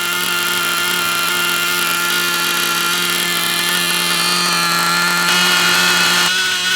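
A TNS-modified Novarossi .28 nitro engine running on the bench, a loud steady high-pitched buzzing whine held close and constant, with a brief shift in pitch near the end.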